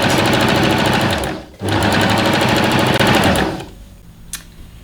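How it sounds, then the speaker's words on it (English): Sewing machine stay-stitching blanket fabric for a refashioned top, a loud, fast, even needle rattle running in two bursts with a brief pause between, then stopping into near quiet with one small click. "Now as you sew, don't pull the fabric, keep it all nice and flat."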